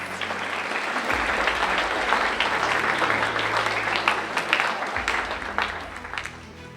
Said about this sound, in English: A round of applause for our team, please.